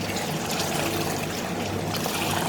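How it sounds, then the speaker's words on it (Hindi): Water trickles and pours steadily into a pan of fish biryani gravy, a continuous close splashing stream that lasts throughout with no talking. "तो थोड़ा सा पानी डालें, ग्रेवी बन जाएगी।"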